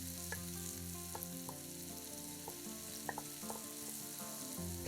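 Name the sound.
chopped onion frying in vegetable oil in a pan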